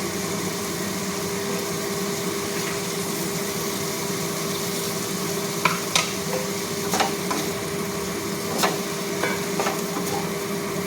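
Fried potatoes and kochur loti (taro stolons) being sautéed in a pan over a medium flame, heard as a steady, even sizzle with a few sparse scrapes and taps from a spatula, with no talking.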